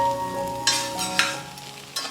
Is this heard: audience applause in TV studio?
no